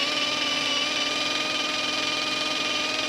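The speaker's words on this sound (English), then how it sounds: "So what you do is just put on the drill" A steady high-pitched whine of a power drill running continuously at constant speed to burn away a seal on a Toyota Hilux N80, close and loud, with no talking.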